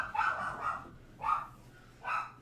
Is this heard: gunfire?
no